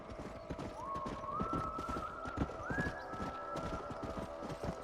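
Horses trot along in the video game Red Dead Redemption, steady rapid hoof clip-clops close up, with a whinny-like rising tone drawn out over the hoofbeats.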